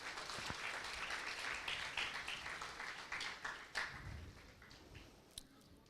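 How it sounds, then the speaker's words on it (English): Audience applause at the valedictory programme of an IEEE ComSoc summer school, a steady wash of many hands clapping that holds for several seconds and then thins out toward the end. "Big round of applause, please."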